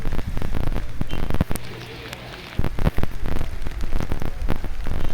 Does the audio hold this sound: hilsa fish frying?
no